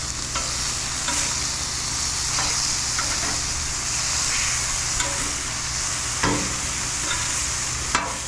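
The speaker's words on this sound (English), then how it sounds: "We're going to flip them and we're going to get these onions sauteed." Onions sautéing in a pan beside smashed burgers, giving a loud continuous sizzle and crackle broken by a few scraping stirs of a spatula, with no voices.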